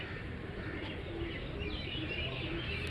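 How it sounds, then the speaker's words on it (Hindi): A Lal Badshah racing pigeon gives soft, low coos at close range against a steady hiss of outdoor background noise, with faint chirps scattered through. "ये लाल बादशाह कबूतर है हमारा"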